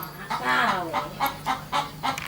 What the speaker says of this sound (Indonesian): di sana ada suara ayam teman-teman ya